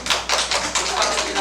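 Children at a church Sunday school clap to celebrate birthdays, a quick, regular burst of rhythmic hand claps close by, with a voice mixed in.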